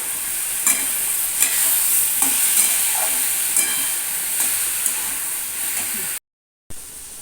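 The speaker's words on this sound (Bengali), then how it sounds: "কষানোর সময় গ্যাসের ফ্লেমটাকে লোতে রেখে কষাতে হবে তাহলে কষানোটা ভালো হবে" Brinjal being sautéed with salt, turmeric, green chilli and garlic paste in a pan over a gas flame, a bright continuous sizzle with repeated spatula scrapes, close, ending with a brief cut to silence.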